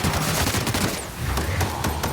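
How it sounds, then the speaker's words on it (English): Rapid bursts of heavy bolt pistol fire in a Warhammer video game, dense and loud with sharp repeated reports filling the whole clip. "Bolter pistol"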